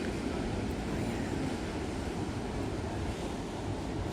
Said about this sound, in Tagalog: Alon na. Lakas ng alon.